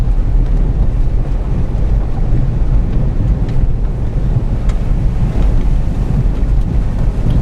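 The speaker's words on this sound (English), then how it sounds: "Just going through a river." A Land Rover Freelander fords a river on a country drive, with a loud, steady rush of churning water and wind buffeting the microphone throughout, engine hum buried beneath the wash.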